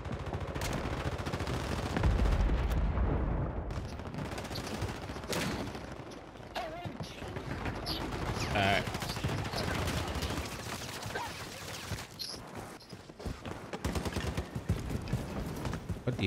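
Rapid automatic rifle fire from an assault rifle in the Warzone video game rattles in dense bursts throughout, steady and fairly close, with sharper isolated cracks toward the end and no voices over it.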